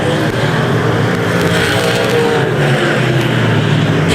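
Race cars roar around an oval track in a steady, loud engine drone, several cars running close together, while an announcer's voice talks over the noise.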